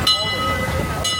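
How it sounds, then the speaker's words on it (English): A Disneyland park train sits in the station, giving a steady rumbling drone with a bright tonal whine running through it and a sharper hiss rising at the start and end. "the next train is in the station"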